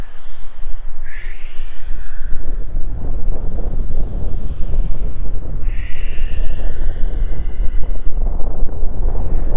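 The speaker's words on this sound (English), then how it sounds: "Here comes the wind." Wind blows steadily outdoors in a continuous, fairly loud rush with no pauses, and a couple of short bird calls cut through it near the start and again midway. Nobody speaks.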